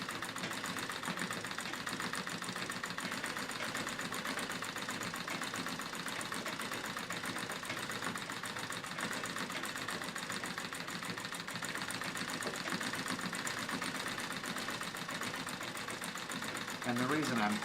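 A foot-powered treadle sewing machine quilts over denim with a continuous, even mechanical chatter that holds at a steady rhythm throughout, fairly quiet and close, with no breaks.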